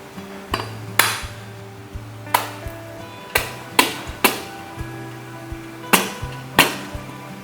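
A young Thai coconut being hacked open with a heavy knife or cleaver, sharp chopping blows landing in an irregular series of about a dozen loud, close impacts, with no talking.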